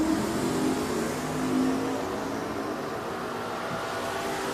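Drag race cars, a Chevelle against a 1968 Camaro, rumble at a distance at Richmond Dragway, a muffled, fairly faint engine drone that swells briefly without any sharp launch burst.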